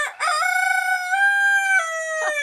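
A rooster crows once, long and loud and close, a clean drawn-out call held for about two seconds on its own with nothing else heard.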